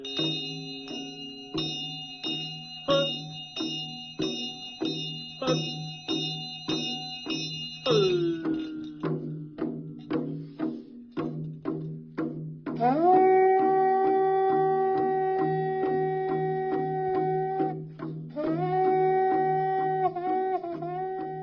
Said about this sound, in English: Here is the sound of a lone practitioner.